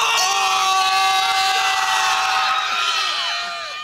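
High school football fans roaring and screaming at a night game, a dense, loud, sustained crowd cheer with high shrieks and whoops that fades slightly at the end.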